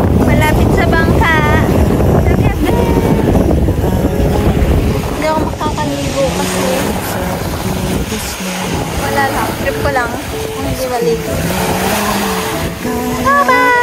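A boat on the water off a beach at Agdangan, its engine drone blending with loud wind buffeting the microphone, while people talk and call out throughout.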